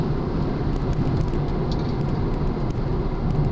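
A stock Mazda RX-7 FD accelerating hard, heard from inside as a steady, loud, dense engine and road roar that holds at a constant level throughout, with no talk over it.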